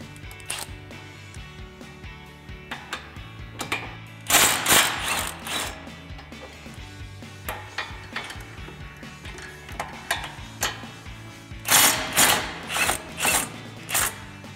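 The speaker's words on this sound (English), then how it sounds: "So the 2 bolts that we're going to be removing are here and the one up here behind the brake line." Ratcheting and power-driver bursts loosen the brake caliper bolts on a 2015-2023 Mustang steering knuckle, with two loud rattling runs, one mid-clip and one near the end, separated by quieter tool clicks and handling noises.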